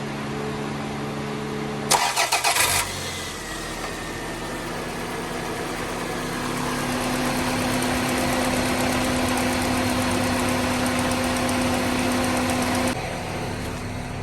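A Toyota Celica engine cranks briefly and fires, then settles into a steady idle that continues for roughly ten seconds after a radiator and thermostat replacement.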